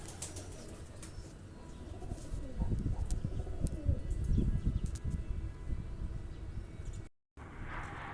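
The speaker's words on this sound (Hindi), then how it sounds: "ये देखो कबूतर हैं।" Soft, low pigeon coos murmur amid outdoor background noise at a camp area in Fahood, Oman, with faint rustling and a brief break near the end.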